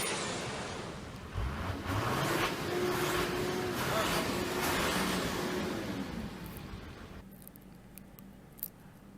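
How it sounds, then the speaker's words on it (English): A Land Cruiser 60 series diesel engine starts for the first time, revving up with a rising and falling whine for several seconds before settling and dropping away, with faint clatter near the end. "Here we are cranking it up for the first time after receiving it"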